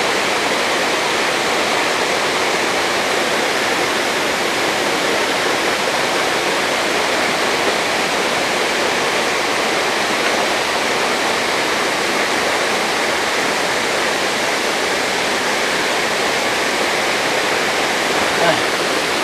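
Waterfall at Hidden Falls in Luisiana, Laguna, pouring down with a loud, steady broadband roar that runs unbroken throughout, with no talking.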